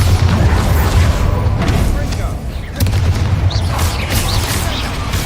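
Bombarda spell explosions go off in Hogwarts Legacy as dense, rumbling booms over continuous game noise, with a brief dip midway before the blasts resume.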